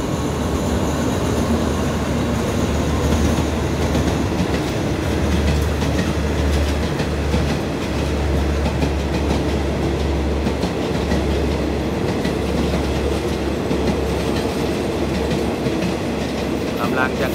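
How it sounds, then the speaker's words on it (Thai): Thai rapid train pulling into Ban Pong station on the southern line, a steady loud rumble of rolling wheels and rail clatter with deep low throb throughout, close and continuous. "เข้าจอดที่สถานีบ้านโป่งนะครับสำหรับขบวนรถเร็วที่168508นะครับ"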